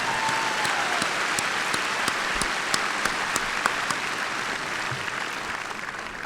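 Steady applause from a large commencement audience honoring mothers at a university ceremony, a broad wash of many hands clapping at moderate distance with a few sharper individual claps standing out.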